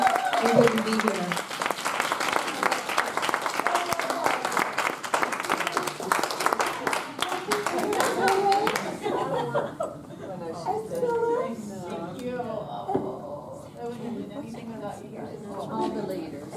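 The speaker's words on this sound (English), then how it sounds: "I think we all should give Stacy Holcomb a great applause." Audience applause for Stacy Holcomb at a women's empowerment event, steady crowd clapping with scattered chatter and chuckles, then thinning into a few claps under talk toward the end.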